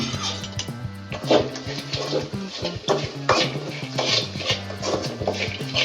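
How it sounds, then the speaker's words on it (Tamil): Onions and salt are stirred in a pan, giving soft repeated scraping strokes over steady background music. "அதனால் உப்பு கொஞ்சமாக போட்டு நீங்கள் இதை கிண்ட வேண்டியதான்."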